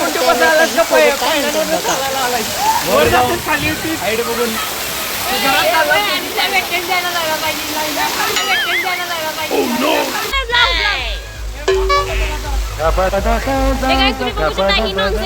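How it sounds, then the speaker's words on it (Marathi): Water cascading like a waterfall at Gandharv Water Park, a steady loud rushing wash under constant excited talk and shouting, with the pour's character shifting partway through. "मस्त असं धबधब्यासारखं पाणी"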